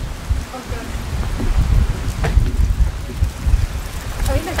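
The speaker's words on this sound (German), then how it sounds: "Oh, jetzt regnet es richtig." Steady heavy rain pours down with a dense hiss and low rumble, continuous and close, with faint scattered sounds in the background.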